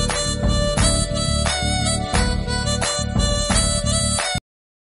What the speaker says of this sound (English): Mouth organ.